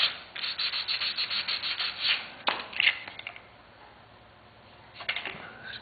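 Sandpaper rubs back and forth over a model fender in quick, rhythmic strokes, close and fairly soft, then pauses before a few final passes.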